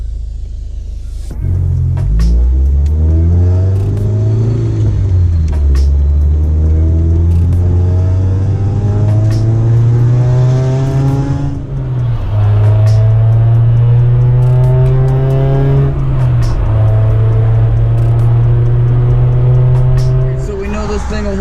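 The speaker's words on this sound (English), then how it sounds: "let's go ahead and fire this up, let it warm up, and then let's take it for a ride" A Honda Prelude with a newly replaced clutch master and slave cylinder, its engine slightly chattery, drones loudly from inside while driving. The pitch climbs under acceleration and dips at each gear change.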